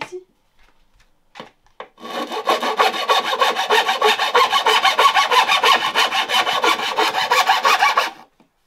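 A hand file rasps steadily across a piece of wood during a campervan build, fast regular back-and-forth strokes, close and loud, following a few quiet knocks.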